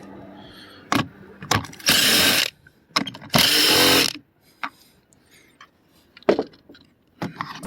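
Two sustained bursts of a power driver backing out screws from a 2007–2013 Ford Expedition door handle, with short ratcheting clicks and taps of handling between them, close and fairly loud, no talking.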